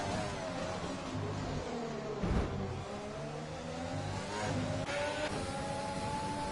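Racing cars in a video game on the Azerbaijan circuit, steady mid-pitched engine drone with rising and falling revs as cars pass, continuous and fairly close with no talk.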